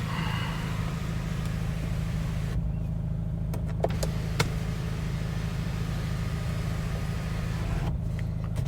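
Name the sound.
one-touch electric sunroof of a 2017 Nissan Navara opening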